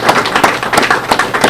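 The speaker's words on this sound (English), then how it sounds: "Give yourselves a round of applause." Audience applause at an opening ceremony for an education ministry TVET apprenticeship event, dense loud clapping from a large crowd, steady and close throughout.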